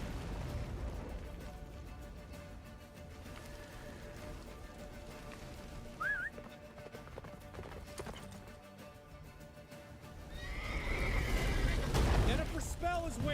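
Roach, the horse in The Witcher 3 video game, gallops with quick rhythmic hoofbeats through rain, and a clear whinny rises briefly midway while voices talk over the action.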